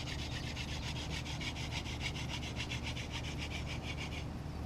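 A wooden spindle spun by hand against a wooden fireboard in hand-drill fire-making gives a steady, rapid rhythmic rubbing and grinding, with fast repeating back-and-forth strokes, close and continuous.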